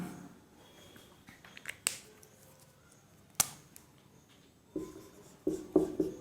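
Chalk or marker strokes on a classroom board during a physics lecture, sparse scratches and sharp taps separated by pauses, close and fairly clear with no talk over them.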